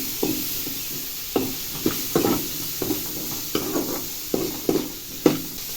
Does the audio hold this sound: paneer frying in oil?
yes